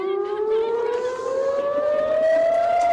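Civil defense air raid siren wailing over Tel Aviv, a loud, sustained tone slowly rising in pitch with strong harmonics, heard alone without voices.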